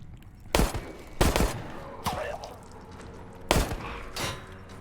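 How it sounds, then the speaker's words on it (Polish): A security camera turret firing in Resident Evil: several sharp, punchy shots, some in quick pairs, with a glassy crack and lingering ambient game noise between bursts. "Kamera strzela chyba w nas"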